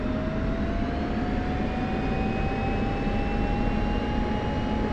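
F-16 jet engine spooling up during a ground run-up in the DCS World flight simulator, a steady loud roar with a slowly rising whine held throughout, no voices.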